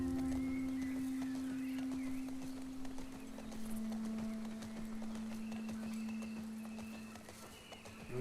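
Rhythmic hoofbeats of a galloping horse with a steady game-like background tone, continuous and fairly even in loudness, no talking.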